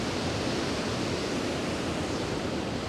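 Ocean surf breaking at Granite Bay in Noosa, heard as a steady, dense roar of crashing water with no distinct individual wave peaks, loud and continuous throughout with no voices.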